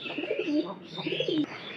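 Two soft, rolling pigeon coos in succession, close by, with a faint hiss of background noise and no talking.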